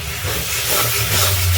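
Water poured into frying spice paste in a pan sets off a loud, continuous hiss of steam that holds steady throughout.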